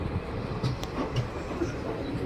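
The Agartala special train arrives at a station, its wheels rumbling at moderate volume with a few sharp clicks and knocks scattered over the steady low drone.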